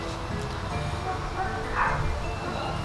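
Several dogs bark at night in a backyard, coming from a distance as a few yips and woofs. The barking sits under steady background noise, and faint talk is audible.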